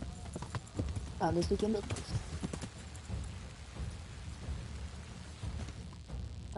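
Horse hooves clop in a soft, steady rhythm while riding in the medieval video game Kingdom Come: Deliverance, under rain and low rumbling ambience, with someone speaking briefly over it.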